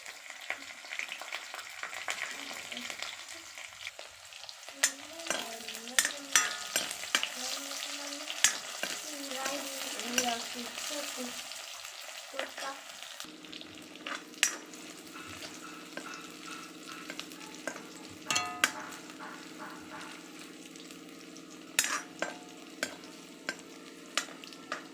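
Whole garlic cloves fry in oil with a close, steady crackle broken by sharp pops and occasional stirring scrapes; the sizzle settles into a denser, even hiss in the second half.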